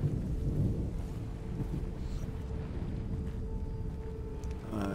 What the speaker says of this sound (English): It sounds like it's gonna rain.